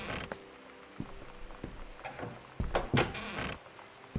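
A door creaking open in the video game Gone Home, a faint, drawn-out mechanical creak with small clicks and knocks, heard alone in a quiet interior.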